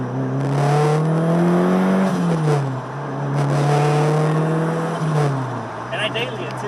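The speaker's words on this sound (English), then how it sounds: "just the sound of the turbo is just so intimidating" A turbocharged Honda S2000 running on E85 accelerates hard through several gears, its engine tone climbing and dropping at each shift, heard loud from inside the car with voices talking over it.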